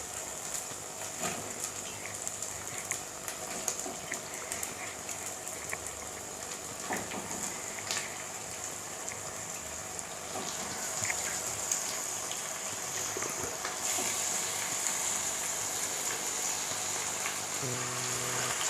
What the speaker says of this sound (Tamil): சிக்கன் போட்டாச்சு. நம்ம நல்லா ஃப்ரை பண்ணி எடுத்துடணும்.